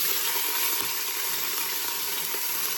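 Ground beef browning hard in a hot pan for chili, a dense, even sizzle that holds steady throughout with no talking.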